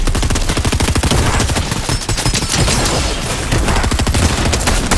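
Sustained, loud gunfire from an enemy team in Fortnite, with rapid automatic bursts hammering almost without pause across the whole stretch, close and dense with no talk over it.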